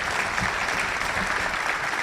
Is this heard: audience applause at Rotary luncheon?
yes